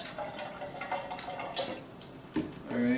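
Water runs from a kitchen faucet water filter in Southern California, a steady splashing trickle that grows louder and fuller toward the end as a container fills.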